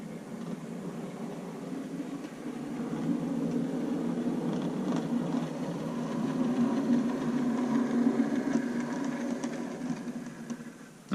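Model train running on a layout track with a rattly sound, a quiet continuous mechanical whir and clatter that grows slightly louder midway and holds steady.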